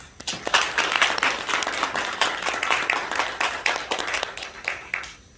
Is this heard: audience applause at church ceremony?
yes